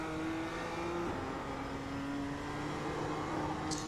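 A BMW M2 engine in the iRacing game holds a steady, droning pitch at full throttle on the Sonoma circuit, continuous and fairly loud with a slight shift partway through.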